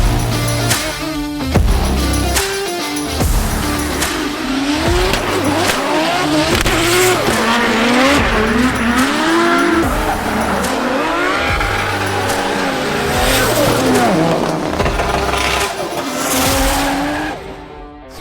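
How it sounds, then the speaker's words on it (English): Drift cars slide through a Drift Masters event, with long, wavering tire squeals over roaring, revving engines, several cars passing close and loud in succession. "like to watch the cars coming in, like as you see how fast they're going"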